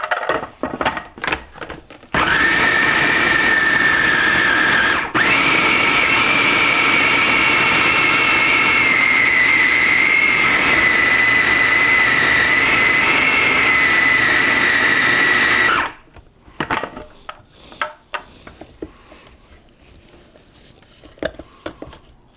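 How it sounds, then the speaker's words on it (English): A blender whirs loudly through peanut butter, chickpea and date cookie dough, starting abruptly, dipping briefly, then running as a steady motor drone for about thirteen seconds before cutting off, followed by scattered clatter. "And now I'm going to give this a good blend again."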